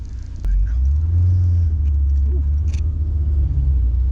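A wrecked Honda S2000 with 80k miles idles rough nearby, its low steady engine rumble starting after a click and continuing with a faint uneven beat, with a brief quiet voice.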